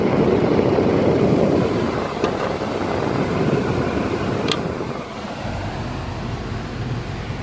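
Air conditioning blows in a 2009 Ford Fusion, a loud, steady broadband whoosh that softens slightly partway through and then continues evenly.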